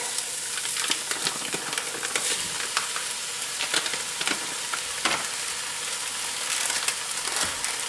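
Ground beef sizzles steadily in a pan with onions, a close, even frying hiss broken by small crackles and the occasional scrape of stirring, with no talking.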